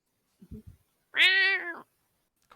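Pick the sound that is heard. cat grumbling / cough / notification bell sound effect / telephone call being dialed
cat grumbling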